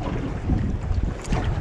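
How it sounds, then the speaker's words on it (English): Strong wind buffets the microphone on a fishing boat anchored at sea with its engine off, a steady loud low rumble of gusts over faint water movement. "That's how windy it is."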